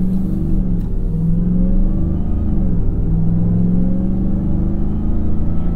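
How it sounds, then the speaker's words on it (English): A Ram TRX with an AWE 0FG exhaust drones under load, a loud, deep engine rumble with rising and falling tones, blended with supercharger whine, heard steadily from inside the cabin. "A nice balance now between the supercharger sound and the exhaust sound."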